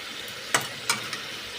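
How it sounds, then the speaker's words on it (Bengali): Masala frying in a pan for a cabbage and katla fish head ghonto, a soft continuous sizzle broken by two sharp scraping stirs and a fainter third, close and alone without speech. "খুব ভালো করে বন্ধুরা মশলাটাকে নাড়াতে হবে"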